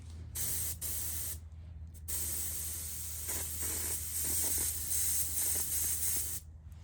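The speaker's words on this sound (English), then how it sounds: "try to blow cleaner through your airbrush" An airbrush blows cleaner through its nozzle in a sharp, close hiss, running in long bursts broken by short gaps and a few quick stops and restarts.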